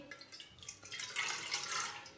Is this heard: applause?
no